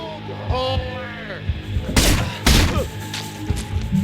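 Gunfire from a headshot in the video game Manhunt, two sharp loud bursts close together amid game effects and music.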